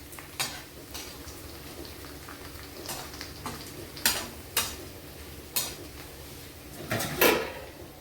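Vegetables roasting in a little oil in a pan as the cooking finishes, a soft steady sizzle under repeated metallic scrapes and clinks of a spatula against the pan, spaced at uneven intervals, close by.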